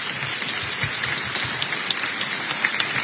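Applause from an audience inside St Etienne cathedral in Châlons, honoring animal shelter workers: a steady wash of many hands clapping, moderately loud and reverberant, with no talking over it.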